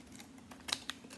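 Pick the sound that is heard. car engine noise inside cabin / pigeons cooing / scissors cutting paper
scissors cutting paper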